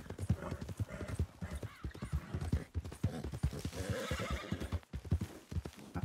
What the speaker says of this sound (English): Wild horses on the road.